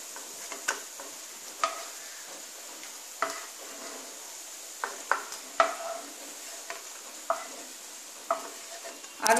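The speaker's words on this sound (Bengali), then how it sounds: "এতটা যেটা আমি ভাজছি ভেজে নিয়ে আসছি" Potato pakoras fry in a pan over a faint, constant sizzle, broken by about a dozen sharp scrapes and clinks of a utensil against the pan at uneven intervals, close and without talk.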